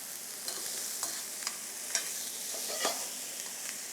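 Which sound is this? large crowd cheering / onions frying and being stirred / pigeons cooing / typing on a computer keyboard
onions frying and being stirred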